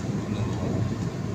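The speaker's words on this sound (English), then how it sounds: "Ang tren na ito ay hanggang sa Recto." An LRT train on the Antipolo to Araneta Cubao line runs with a steady low rumble and rolling hum, carrying on loud and even without break and with no speech over it.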